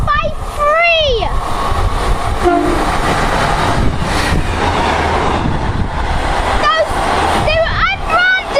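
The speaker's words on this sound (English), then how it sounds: "That's the last train for today at Britain Ferry" An Arriva Trains Wales class 153 diesel unit passes close by at Briton Ferry with a loud rumble and clatter, sounding a two-tone horn near the start and again near the end. Speech overlaps the train noise.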